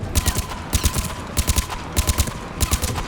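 Gunfire from a heavy-recoil gun in Mass Effect Legendary Edition comes in four quick bursts of several sharp shots each, loud and close with brief gaps between them.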